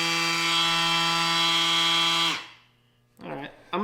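Milwaukee 3-inch sander running at full speed 4, a loud steady high-pitched whine that cuts off and winds down after about two seconds, followed by a brief voice.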